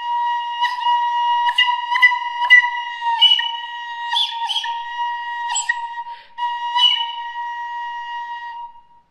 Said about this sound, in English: You can also use your fingers to cover the labium and make a very high sound.